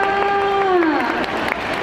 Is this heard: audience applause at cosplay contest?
yes